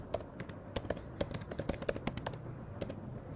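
A computer keyboard is typed on with quick, irregular clusters of light key clicks, close and fairly quiet, with short pauses between bursts.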